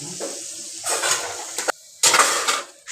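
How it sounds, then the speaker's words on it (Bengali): Ground mustard paste is strained through a kitchen sieve while making Bengali steamed hilsa: bursts of wet scraping and metallic clinks come close and fairly loud in two main stretches, separated by short pauses. "এবার আমি একটা ছাঁকনির সাহায্যে ভালোভাবে সর্ষে বাটাটাকে ছেঁকে নেব"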